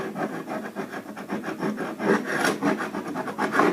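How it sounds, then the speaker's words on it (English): Old finish is scraped off an oak wood floor with repeated rough, rasping strokes, close and fairly loud, in a steady back-and-forth rhythm with no talking. "Don't worry about scraping the wood down and exposing some of the wood"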